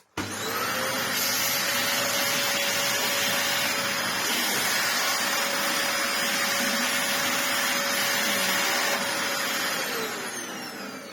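A Dyson DC25 upright vacuum cleaner runs steadily and loudly for about ten seconds, a constant high whine with broadband airflow roar that tapers slightly at the end, no voices present.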